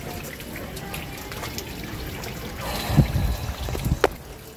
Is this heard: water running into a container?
yes